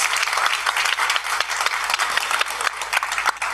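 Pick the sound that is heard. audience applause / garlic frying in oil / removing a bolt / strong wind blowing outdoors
audience applause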